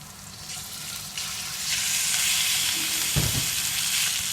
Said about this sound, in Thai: จากนั้นผัดหมูสามชั้น ให้เข้ากับ สามเกลือ